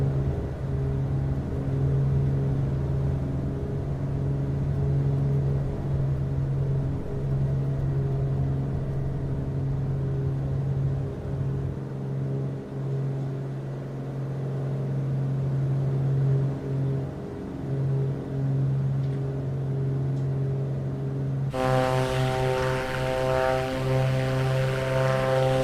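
A Fokker F28 jet rolls for takeoff in Microsoft Flight Simulator 2024, its engines holding a steady droning roar that swells into a louder, richer whine near the end.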